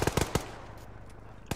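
Automatic gunfire in the military video game Arma: several sharp close bursts at the start, a quieter stretch of low rumble, then another loud burst at the end.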